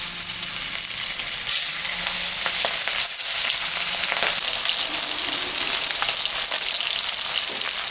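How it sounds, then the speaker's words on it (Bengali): Pangas fish pieces, salted and coated with turmeric, fry in hot mustard oil in a kadai, giving a loud, steady sizzle and crackle with a few brief stirring clinks and no talking. "মাছটা এখন আমি ভাজবো"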